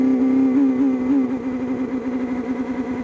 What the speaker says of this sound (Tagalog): Grabe, nagwawala yung motor ng launch control.